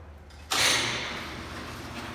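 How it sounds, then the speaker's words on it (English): A garage-style roll-down door at a police station closes with a sudden loud rumbling onset that slowly fades into a steady mechanical hum, alone with no talking. "All right, so let's close this door."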